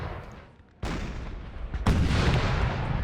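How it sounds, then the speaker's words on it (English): Artillery fires in Napoleonic Total War 3, with two sharp, loud booms about a second apart, the second followed by a sustained roar of distant gunfire and battlefield rumble. "Another artillery crew firing over on this direction"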